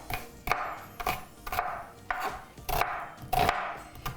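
An onion chopped on a cutting board, with about eight crisp knife strikes at a steady, unhurried rhythm, close and distinct, with no voices.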